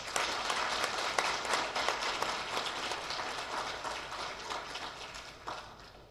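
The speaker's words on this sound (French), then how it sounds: "un applaudissement chaleureux pour eux" A schoolroom audience gives warm applause for graduates, a steady wash of many hands clapping at moderate distance that slowly tapers off over several seconds.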